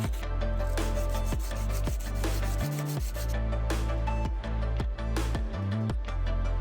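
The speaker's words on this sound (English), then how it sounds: "You can easily process small and delicate objects with this sandpaper holder" Sandpaper held in a small 3D-printed holder rubs against a small, delicate object. The rasping is steady and close, with repeated back-and-forth strokes about every half second and no talking.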